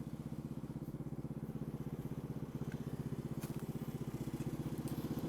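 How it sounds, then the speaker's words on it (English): A train locomotive idling at a station on an electric line, a steady low rhythmic diesel throb that runs continuously and loud, close by, with faint clatter above it and no voices. "This is what this train station is supposed to sound like with an idling locomotive."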